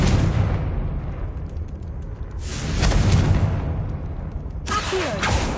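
Fiery spell explosions from the Confringo curse in a Harry Potter video game, two loud broadband blasts with rumbling tails following a steady roar, no talking.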